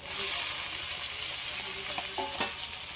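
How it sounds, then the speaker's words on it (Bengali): Onion, chillies and chopped cherry tomatoes fry together in hot oil, producing a loud, constant crackling sizzle with brief stirring knocks, heard up close and alone. "এগুলো সব একসাথে একটু লাল লাল করে ভেজে নিই"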